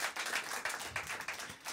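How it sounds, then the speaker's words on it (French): Audience applause for a percussionist at a live talk event, a dense, steady patter of many hands clapping through the whole short stretch, moderately loud with no voices over it. "on peut l'applaudir, Mathieu, bien sûr."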